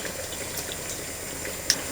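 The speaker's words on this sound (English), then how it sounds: "Just adding some water so that the rabbit is covered almost completely." Water pours into a pot of Italian rabbit stew (coniglio alla cacciatora), a faint, steady trickling gush close by with no talking.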